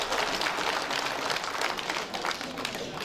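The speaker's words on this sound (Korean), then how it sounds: "그럼 박수 한번 칩시다" A packed hall of members at a housing cooperative's general meeting breaks into steady, dense applause after a motion passes, a continuous wash of many hands clapping at once, with some voices faintly mixed in.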